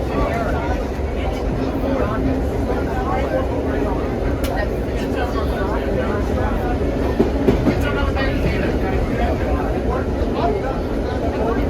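A New York City subway Q train rumbles past at a historic train event in Brooklyn, a loud continuous roar with rail clatter and scattered clicks, and people talking underneath.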